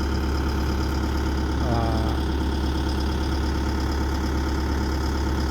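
The engine of a Sumitomo SH130F6 excavator idles with a steady, loud, low drone. Someone talks over it partway through.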